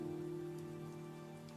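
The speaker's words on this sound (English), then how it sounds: "this ambient rain and music" Ambient rain in a played music track: a soft, even patter of rainfall blends with sustained tones that hold steady throughout, quiet and continuous.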